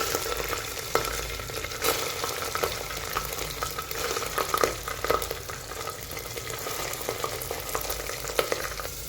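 Onions fry in hot oil with garlic paste in a curry pan, crackling and hissing steadily throughout, with intermittent scrapes and knocks of a spatula stirring close by.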